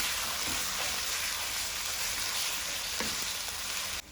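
Ginger garlic paste frying in a pan for chicken korma, a steady close sizzle that holds evenly throughout with a few faint stirring clicks and drops off at the very end.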